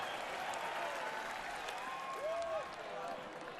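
Cheers and applause from a sellout spring training baseball crowd at Ed Smith Stadium, a steady distant roar of the crowd with a play-by-play announcer talking over it.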